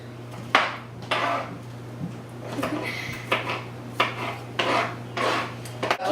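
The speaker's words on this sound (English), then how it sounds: "Once you've cut all your onions, you just add those." Chopped onions are scraped into a salsa bowl, making a series of soft rasping scrapes and light clinks about once a second, close up over a steady low electrical hum.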